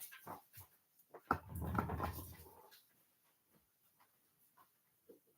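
Dogs whimper and yip in short bursts indoors, with one louder stretch of whining mixed with a low rumble, then faint scattered whines and a small sharp yelp near the end.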